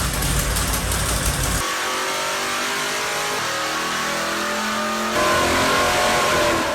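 A racing engine built in-house runs on a dyno in an enclosed test room, loud and close with a steady roar that shifts pitch as it revs up and settles, no voices over it.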